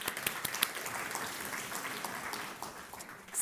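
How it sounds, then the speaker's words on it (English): An audience at a food and nutrition summit applauds itself, sustained clapping from a sizable crowd with a few sharp near claps, tapering slightly at the end. "Please give yourselves a round of applause."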